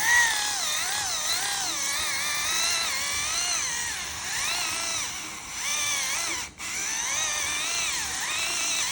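An electric callus remover whirs steadily with a high, wavering motor whine that rises and falls as it is pressed, briefly cutting out near the end.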